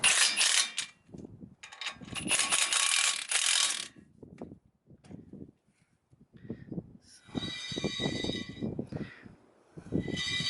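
Ratchet clicking in several quick bursts, close and fairly loud, as bolts are tightened on fourth-generation front brakes fitted to a first-generation Cummins W250 pickup with a P-pump, with quiet pauses between rounds of cranking.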